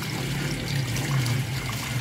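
Tap water runs steadily from a faucet while dishes are washed at a sink, a continuous close splashing flow with no talking.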